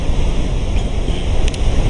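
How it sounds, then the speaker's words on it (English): Huge surf pounding at Cloudbreak, Fiji, a continuous loud roaring rumble of breaking waves mixed with heavy wind buffeting the microphone, with no voices. "It's rumbling, and it's got to be one of the loudest waves there is."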